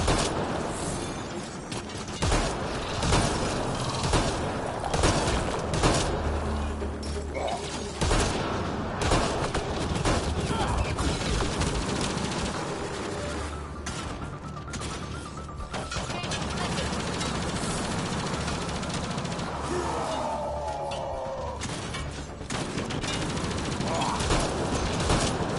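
A mounted turret fires during a firefight in the video game Mass Effect Andromeda, with sustained bursts of rapid gunfire, impacts and crashes running continuously and loudly throughout.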